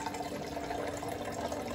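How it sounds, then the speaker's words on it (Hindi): Water poured or running into a container indoors, a steady, even rushing splash throughout the short stretch, close and fairly loud with no talk over it. "अब मैं इसे पानी ले रही हूँ"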